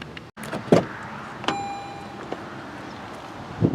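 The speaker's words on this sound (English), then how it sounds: "all you have to do is place your hand behind the handle and it'll unlock for you" A 2016 Toyota Prius Three door unlocking as a hand slides behind the handle: a sharp mechanical click followed by a short electronic chime, with a few softer clunks of the handle and door nearby and no talking.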